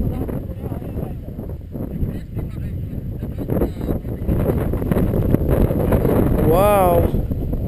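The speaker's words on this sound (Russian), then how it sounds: "Порыв ветра." Gusting wind buffets the microphone at a paragliding field, a rough broadband rumble that swells and strengthens toward the end, with a brief whistling sweep near the close.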